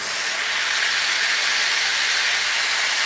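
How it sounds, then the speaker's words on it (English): Steam wand on a Turin Gallatin espresso machine blasting steam, a loud continuous hiss that stays even throughout. "Seems like Gallatin has more powerful steam, if you ask me."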